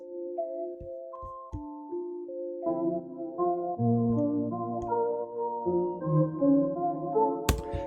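A doubled synth sound pitched up an octave plays a high, interesting melody of sustained tones, layered over plucked chords and bass, ending with a sharp hit; no talking.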